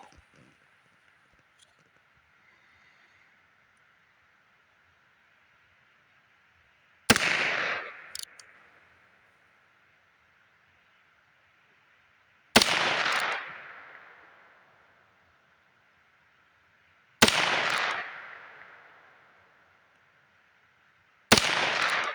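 A Heritage Wild Bill Hickok Talo Edition revolver fires Federal Punch rounds at an outdoor range. Four loud, sharp reports come several seconds apart, each with a trailing echo, and there is near silence between them.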